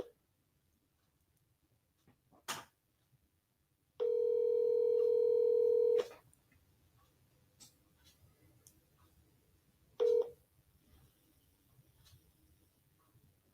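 A steady telephone dial tone sounds for about two seconds on a live call-in broadcast, followed later by a short beep, with faint clicks and quiet background otherwise.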